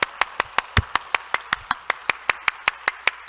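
A church congregation claps together in a steady, rhythmic beat to welcome a guest, about five even claps per second, sharp and close, with no talking over it.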